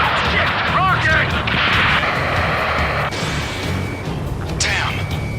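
Rocket explosion in the Ace Combat 7 air combat video game, a loud blast amid dense battle noise with rumbling booms and crashing impacts over a continuous roar of engines and gunfire.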